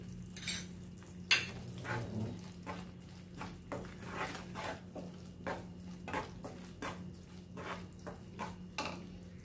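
A spoon stirs coconut rice (narali bhat) with raisins, cardamom powder and a pinch of salt in a pan, making quiet, rhythmic scrapes and clinks over a low steady hum.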